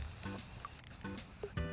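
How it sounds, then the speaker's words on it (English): Spray paint hissing from an aerosol can onto a Beyblade part in a few short bursts, close and fairly quiet with no talking. "I'm gonna spray paint it so it looks good."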